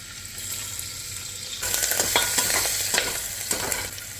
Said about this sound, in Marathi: त्यामध्ये आता आपण कढीपत्ता घालूया, मिरच्या घालूया